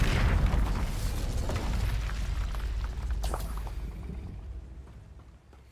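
A fiery Incendio spell explodes in Hogwarts Legacy, a loud booming burst up front that rumbles on and slowly fades over several seconds.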